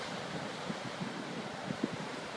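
Stormy ocean surf rolls and wind roars steadily at a shoreline street during Blizzard Nemo, a broad continuous wash with a few faint low thumps of breaking waves.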